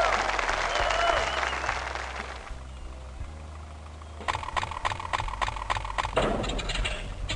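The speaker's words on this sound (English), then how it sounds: "Applause, please!" Applause on a quiz-style show, a burst of crowd clapping that fades, then returns as a sharper, rhythmic run of claps with music underneath.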